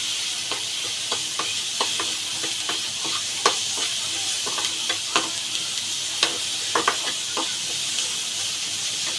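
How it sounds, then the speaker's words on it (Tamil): Onion sautés in a pan with salt added, giving a steady close sizzle broken by frequent light clicks and scrapes of stirring, with no talking. "இந்த வெங்காயம் வதங்கிறதுக்கு கொஞ்சம் சீக்கிரமாக வதங்கணும்னா கொஞ்சம் உப்பு போட்டுக்கலாம்."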